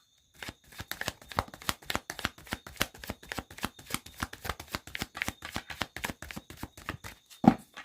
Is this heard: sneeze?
no